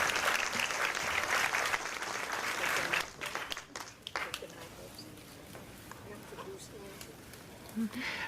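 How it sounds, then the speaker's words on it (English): An audience at a Miss Alabama State University coronation applauds for its special guests, and dense clapping fills the hall before fading into scattered claps and room noise. "please give all of our special guests a round of applause"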